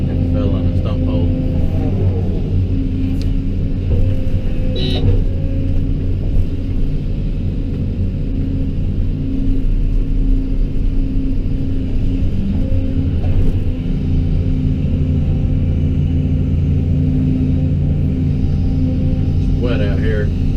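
A truck engine drones steadily and hard for a long stretch while the truck sits stuck in a stump hole during brush hauling, with a constant low rumble and a few faint clanks.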